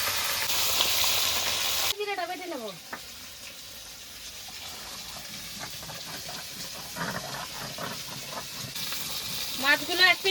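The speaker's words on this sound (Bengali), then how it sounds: "মাছগুলো দিয়ে দিয়েছি মাছগুলো ভাজা হতে থাকবে" Tilapia fish frying in oil, a loud sizzle at first that drops abruptly to a quieter crackle, with a voice talking over it in places.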